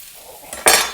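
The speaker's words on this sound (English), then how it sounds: "Get all that on and let that fry off." Lamb chops and a vegetable side hit a hot oiled pan at home, giving a soft scrape then a sudden loud burst of sizzling hiss that slowly eases.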